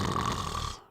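A maid snores loudly in a single long, rasping snore in a read-along story, close and harsh, which cuts off abruptly at the end, with no speech.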